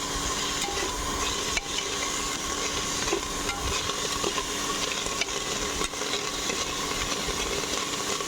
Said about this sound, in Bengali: পেঁয়াজটাকে ভালো করে নাড়বো ওই শুকনো মশলাগুলোর সাথে